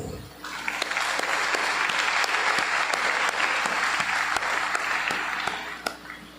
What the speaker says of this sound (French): Une force neuve que nous accueillons à l'UNDH à Port-au-Prince par votre applaudissement